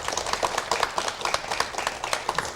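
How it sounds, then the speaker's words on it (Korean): Studio audience applause welcoming a Buddhist monk onto a 1990 Korean television talk show, a steady dense patter of clapping hands throughout, moderately loud with no talk over it. "박수로 맞이해 주시면 대단히 고맙겠습니다"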